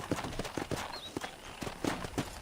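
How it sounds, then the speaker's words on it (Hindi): Horse hooves clip-clop in the video game Red Dead Redemption as a quick, steady run of sharp hoofbeats, close and clear, with a brief high squeak partway through. "घोड़े।"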